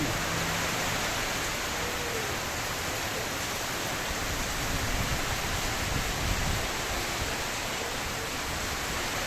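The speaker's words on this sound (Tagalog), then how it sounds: "ang usog na ulan" Steady, heavy rain pours down in a dense, unbroken hiss, with no voices.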